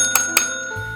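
A bell is rung twice in quick succession during a board game, with two short bright dings over a steady tonal background and no talking.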